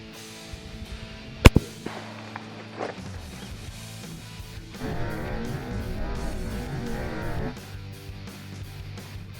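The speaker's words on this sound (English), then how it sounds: "Here goes the shot with the 30-30 here." A single sharp, loud crack from a 30-30 rifle firing at a clay target about 5 to 10 yards away, followed by a brief echo and a quieter, rough rumble of background noise.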